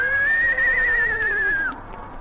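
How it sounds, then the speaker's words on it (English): A horse after a race whinnies in one long, wavering neigh that holds steady for most of the moment, then drops away and fades into faint background noise. "Where did Alan Ladd ever get a horse like you anyway"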